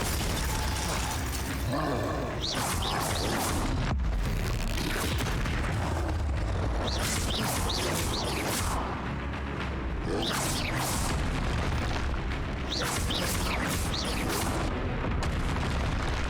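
Confringo blasting spells in Hogwarts Legacy go off as repeated heavy booms and crackling blasts, loud and dense, recurring every few seconds over constant game noise, with a voice heard briefly.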